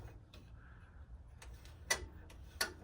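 A 1965 Weather Wheel heater's thermostat gives a few soft ticks and two sharper clicks, close by and quiet, with no talking.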